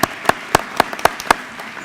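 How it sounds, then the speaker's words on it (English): Audience at a district dedication ceremony clapping, a handful of distinct, evenly spaced claps close by, sparse rather than a full crowd, fading within two seconds. "let's give them all a round of applause for the work that they do for the district."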